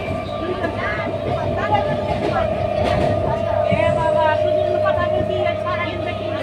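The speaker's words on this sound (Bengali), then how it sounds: "ট্রেন এসে পড়েছে।" Passenger train at an Indian railway station in Bardhaman, a continuous rumbling rail noise with a steady tonal hum and faint clatter, while people talk throughout nearby.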